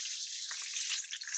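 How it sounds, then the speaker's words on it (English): Peppers and onions sizzle steadily in a hot pan, a bright hissing crackle with small pops, quiet and continuous with no voices. "Okay, and it should, you'll hear sizzling."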